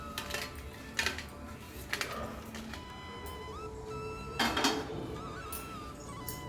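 Roasted dried red chillies tipped and scraped from a pan onto a plate, producing scattered light clinks, rattles and a few sharper clatters, fairly quiet and close.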